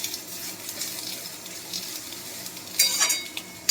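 Chilli powder, turmeric and cumin fry in a pan for a fish curry, giving a soft continuous sizzle, with a spoon stirring and scraping more loudly toward the end.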